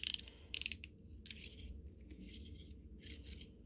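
A Hultafors snap-off utility knife gives a few sharp, quiet plastic-and-metal clicks as its blade is slid and locked, short ratcheting bursts separated by brief pauses.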